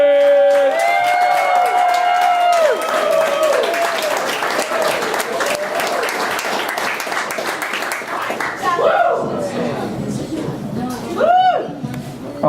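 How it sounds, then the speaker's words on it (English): Comedy club audience applauding a comedian as he is introduced, sustained clapping and some cheering that gradually thins out, with a voice speaking over it and a few whistles. "I want everyone to give a big round of applause for Antoine Wilson!"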